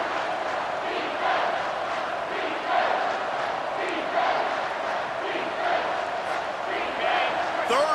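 Stadium crowd in College Football 25 roars steadily at a third-down in overtime, a dense, sustained wash of cheering with swells throughout and a few brief louder peaks near the end.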